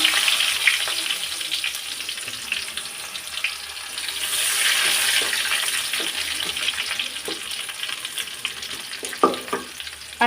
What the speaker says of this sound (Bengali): রসুন আর পেঁয়াজটা এরকম করে ভাজি করে নিলাম একটু লালচে করে ভাজি করে নেবেন